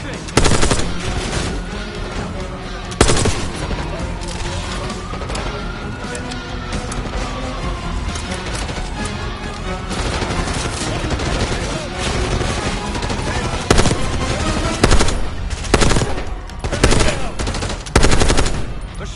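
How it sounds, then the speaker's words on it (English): Sustained machine gun fire in the Black Ops 6 shooter game: long rapid bursts, loud and dense, with heavier booming shots breaking through toward the end, under game music and occasional voices. "Machine gun!"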